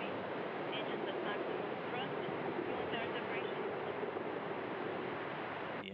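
A Soyuz rocket's engines roar at liftoff of Soyuz TMA-18M from Gagarin's Start, a steady, broad, rushing rumble that is fairly faint and distant, with talk over it.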